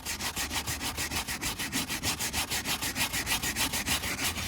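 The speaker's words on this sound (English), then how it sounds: "now just scrub the whole thing." Car interior upholstery being scrubbed hard with a brush in steady, fast back-and-forth strokes, close and fairly loud, an even rhythmic scratching of about six strokes per second with no talking.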